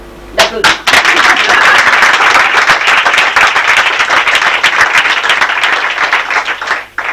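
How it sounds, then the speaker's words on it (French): A theatre audience bursts into loud, dense applause for the stage manager who handles sound and lighting, the clapping sustained throughout and fading slightly at the end. "je vous demande d'applaudir."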